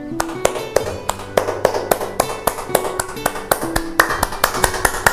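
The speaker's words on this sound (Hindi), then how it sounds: "रोते हुए ताली बजा के देखिए" Hands clap in a steady, close rhythm, about twenty sharp claps over a few seconds. A faint tonal hum or music sits underneath, and no one speaks.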